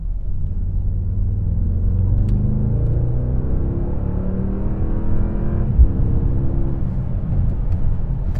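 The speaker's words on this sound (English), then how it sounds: "I love the character of this engine" A deep, steady twin-turbo V8 rumble from a 2024 Mercedes GLS 63 AMG SUV, with gentle rises in revs under a constant low drone and no voices.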